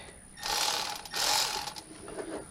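Hand ratchet clicking as it loosens a bolt on a Ford F350 pickup that had sat for 15 years, two short close bursts of rapid metallic clicks separated by a brief pause.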